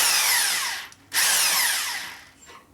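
A power tool on a 1972 Harley-Davidson 1000cc Ironhead Sportster street tracker rebuild gives two close, loud whirring bursts while tightening a part, separated by a short pause.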